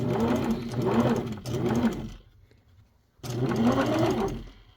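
Sewing machine stitching a fur raccoon hat, running in two close bursts of rapid mechanical whirring separated by about a second of near silence.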